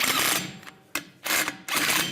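A hand ratchet tightens bolts during a rear brake job on a Chevrolet Silverado 1500, clicking in quick bursts, several short runs of rapid metallic ticking separated by brief pauses, close and fairly loud.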